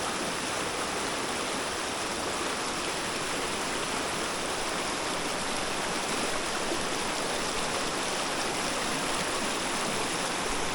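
A river flows steadily at a trout-fishing spot, a dense, continuous rushing of water close by and fairly loud, unbroken throughout with no voices.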